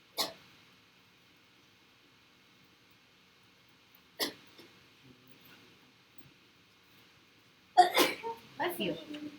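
A sharp sneeze bursts out once near the start, then another at about four seconds, followed by a louder cluster of sneeze-like bursts and sniffs toward the end, in an otherwise quiet room.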